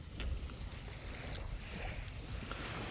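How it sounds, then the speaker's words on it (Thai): Boat on open water near an island pier, with steady low engine and water rumble plus wind noise throughout, fairly close and continuous. "เรือ"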